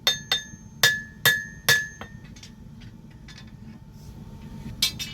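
Hammer blows forging the bevels of a steel katana blade, a run of five sharp ringing metallic strikes with bright overtones, then a quieter pause with faint clinks and one last strike, over a steady low hum.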